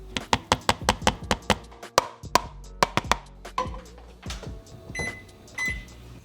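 A microwave cooks keto English muffins amid a quick run of sharp taps and knocks, then a few electronic beeps near the end, all close and clear.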